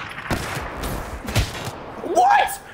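Several sharp gunshots crack out in Black Ops 3 multiplayer, scattered bursts of fire mixed with game effects and a rising electronic whine near the end.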